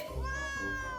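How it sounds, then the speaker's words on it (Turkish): An abandoned kitten gives one short, clear meow close by, faint in level, heard alone. "bu miyavlama sesi de ne böyle?"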